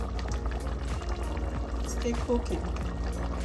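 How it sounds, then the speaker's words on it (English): Yam porridge boils in a pot with a steady bubbling, popping simmer close by, while a voice talks over it. "Now let's check the porridge. Yeah, it's still cooking."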